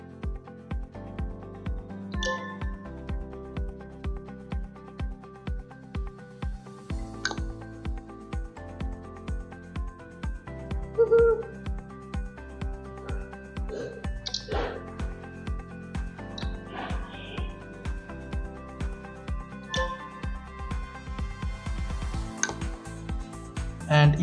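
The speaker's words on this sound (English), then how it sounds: "I am experiencing some new sounds all over the UI" A Redmi Note 5 Pro running MIUI 10 plays a string of short interface clicks and ticks, soft and regularly spaced, with a few brighter chimes and tones mixed in.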